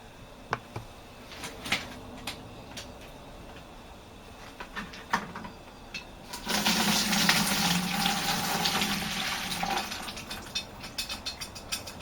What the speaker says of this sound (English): So that's our hop tea going in.